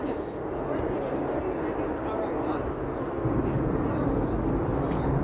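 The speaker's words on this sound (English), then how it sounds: "We've got helicopters flying along overhead." Helicopters pass overhead during an outdoor anti-Trump protest at Chicago's Federal Plaza, a continuous low rumbling drone that swells slightly toward the end, heard over crowd murmur and nearby voices.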